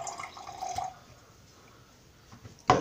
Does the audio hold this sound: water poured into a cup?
yes